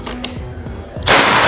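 A Marauder air rifle fired during an accuracy test: two or three sharp, short cracks with brief decay, followed by a loud burst of hissy noise, with no speech.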